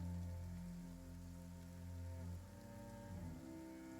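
Steady rain falls with a soft continuous patter, moderately near and fairly quiet, with a low rumbling hum underneath and no talking.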